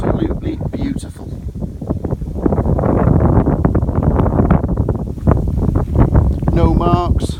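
Gusty wind blows steadily outdoors around a parked Autocruise Wentworth motorhome, a loud broadband rush buffeting the microphone throughout with rustling bursts.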